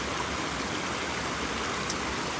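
A small stream on the Pacific Crest Trail flows in a steady, even rush of water beside a trailside campsite, with no voices and no breaks in the sound.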